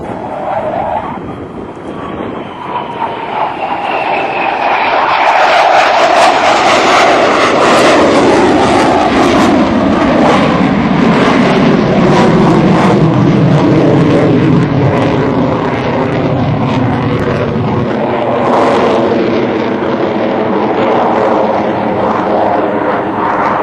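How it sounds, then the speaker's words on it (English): A US Navy F/A-18 Super Hornet jet flying a square loop at an air show roars overhead with afterburner, a loud sustained blast whose whine sweeps downward in pitch as the jet passes and fades slightly away. "The aircraft is now setting up for a maneuver known as the square loop."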